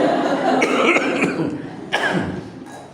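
Several close, harsh coughs burst out in quick succession, followed by a pause and one more forceful cough near the end.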